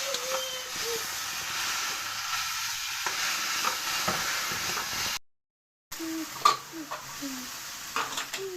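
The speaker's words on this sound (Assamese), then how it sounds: "এইখিনি মই ধুনীয়াকৈ লাৰি দিছোঁ" Chanda fish being stirred in a hot pan, a steady sizzling hiss with scraping spatula strokes, briefly cut to silence before the frying resumes with more scrapes; no talking.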